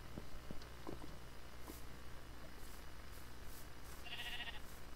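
Sheep bleating in the video game Minecraft: a short nasal bleat near the end rises over a low steady background hum and faint scattered clicks, with no talking.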